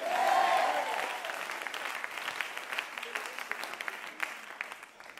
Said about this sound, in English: Clap your hands again and shout yes.